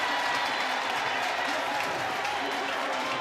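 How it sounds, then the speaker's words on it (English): A dense, roaring stadium crowd at Scott Stadium during a 2024 Louisville vs Virginia college football game cheers and applauds continuously, loud and sustained without a break. "Crowd here at Scott Stadium reacting to the Jumbotron"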